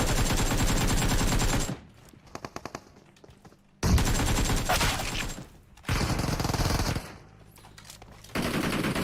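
Rapid automatic gunfire from a video game comes in loud bursts, roughly three long volleys separated by quieter gaps with scattered single shots.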